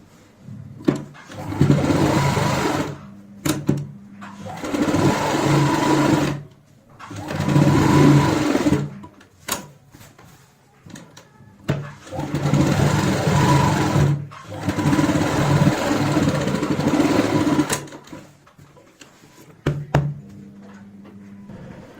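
A sewing machine stitching petals onto a cushion cover runs in several separate bursts of rapid mechanical whirring, each lasting a few seconds, split by short quiet gaps and faint handling clicks.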